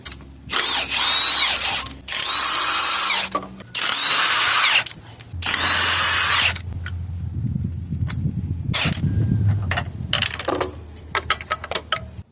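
A power tool zips out 14mm bolts on top of a Toyota Camry 2.4 engine during a timing chain job, with four loud, close whirring bursts followed by lower rumbling, clinks and brief clicks.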